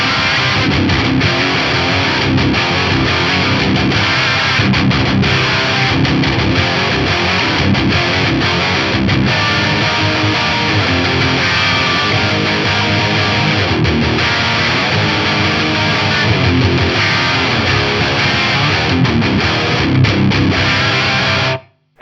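Electric guitar through a Synergy IICP preamp with the bright switch on, playing a distorted rhythm part: dense, loud chugging and strummed chords that run steadily for the whole stretch, alone with no talk, before cutting off abruptly at the end.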